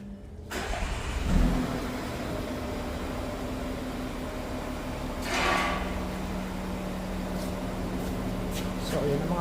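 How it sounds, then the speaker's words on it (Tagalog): A Volkswagen Touareg V6 engine idles steadily and close by after being repaired, with a low continuous drone and a couple of brief swells, and a person talks over it. "V6 engine."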